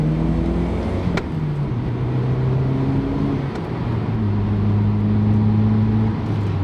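A Toyota Celica GT-Four and a GR Corolla rally car drive through turns, their engines droning loud and close with rising and falling tones as they shift and accelerate, under steady road and wind noise.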